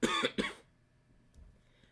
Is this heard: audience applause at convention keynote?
no